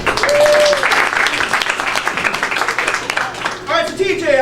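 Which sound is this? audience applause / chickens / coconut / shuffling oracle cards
audience applause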